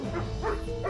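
A pet dog gives a few close, whiny barks and yips in an indoor setting, three short vocal bursts within a second.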